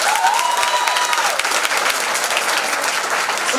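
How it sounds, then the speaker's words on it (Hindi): Loud, dense audience applause at a Holi festival honours ceremony, steady clapping filling the whole stretch with a faint tonal whistle early on. "एक बार खुद से मुझे तालियों से चार्ज कीजिए"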